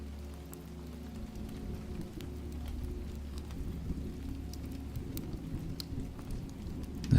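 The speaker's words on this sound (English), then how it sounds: "The storm is getting closer." Steady rain of an approaching storm drums on a cabin, with low distant thunder rumbling beneath it throughout, continuous and fairly even in level with no voices.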